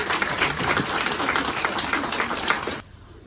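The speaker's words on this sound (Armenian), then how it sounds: "Մեր հերոսիներ մեր ծափերը" An audience at a book launch applauds with dense, sustained clapping that cuts off abruptly near the end, leaving quiet room tone.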